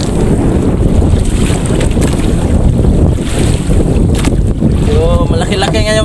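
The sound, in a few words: strong wind at sea on a boat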